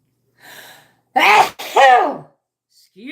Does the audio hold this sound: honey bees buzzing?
no